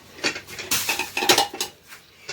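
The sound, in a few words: pressure cooker being pulled out, pots clattering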